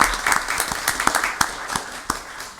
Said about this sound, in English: Let's give downtown Main Street a big clap.